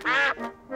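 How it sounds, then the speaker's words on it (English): A cartoon duck gives a short, nasal quack followed by a softer second call, loud and close with no talking over it. "Peppa and George love feeding the ducks."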